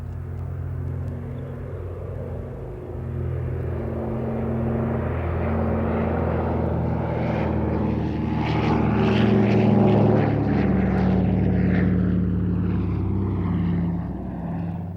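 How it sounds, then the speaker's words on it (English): Douglas C-41, a propeller transport that preceded the Dakota, flying past at an air show with a steady, loud piston-engine drone that swells gradually as it nears. "This particular aircraft is actually a C-41, the Dakota's immediate predecessor, and was General Hap Arnold's personal transport during the war."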